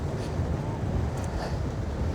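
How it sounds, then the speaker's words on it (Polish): Strong wind on the Karwendel summit buffets the microphone in a steady, roaring low rush with no pauses. "Wiatr jest tak straszny, że nie wiem, czy coś będzie słychać"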